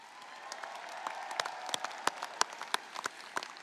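A large crowd at a USC Upstate December commencement ceremony applauds for the graduates' families, a steady patter of many hands clapping in a big space, moderately distant with sharper individual claps standing out.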